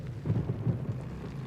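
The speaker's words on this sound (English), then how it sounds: "Hearing some thunder." Low rumbling thunder rolls through a rainy wetland in the video game Days Gone, a steady soft grumble with swelling peaks, fairly distant and moderately quiet, with no talking.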